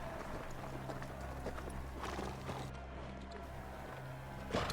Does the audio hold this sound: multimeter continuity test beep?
no